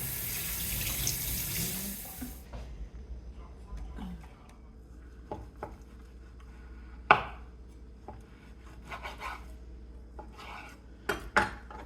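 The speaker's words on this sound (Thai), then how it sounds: "นี่จะหั่นทำหมูกรอบ" A knife chops raw pork for crispy pork on a board, a few sharp irregular thwacks, close by, after a brief gush of running water at the start.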